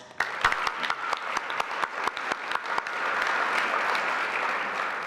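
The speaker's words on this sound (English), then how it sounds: "Let's give them a round of applause." Audience applause at a 2015 United Way campaign awards event, beginning with scattered sharp claps that quickly swell into steady, sustained clapping from a crowd.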